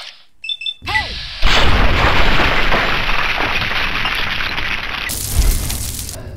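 Gunfire from the video game Fallout 3: one heavy, booming shot with a long rumbling tail, followed later by a second loud burst, after a few short electronic beeps.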